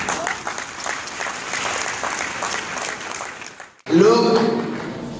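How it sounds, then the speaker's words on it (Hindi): Audience clapping to welcome a speaker at a motivational seminar, a steady roomful of applause that cuts off abruptly near the end as loud amplified sound takes over. "मैं आप सबको वेलकम करना चाहूंगा जोरदार तालियों के बीच में"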